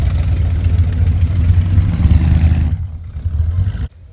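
Engine of a classic Borgward Isabella car running close by, a steady low rumble with slight revving that cuts off abruptly near the end.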